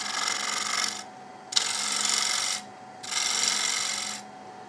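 A turning tool cuts the rim of a wooden bowl spinning on a lathe, making three close, loud, raspy passes of about a second each, with brief quieter gaps between them.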